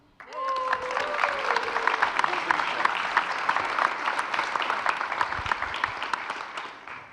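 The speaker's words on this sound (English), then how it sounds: "round of applause" An audience at the Camerimage cinematography festival breaks into a loud, sustained round of applause, dense clapping filling the room from start to finish, with a brief voice near the start.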